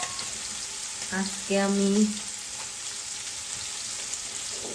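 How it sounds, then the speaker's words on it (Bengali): Fresh local puti fish fry in a pan with a steady hissing sizzle, close and even, while someone briefly speaks over it. "রাতে যে দেশি টাটকা পুঁটি মাছ ভাজা করছি"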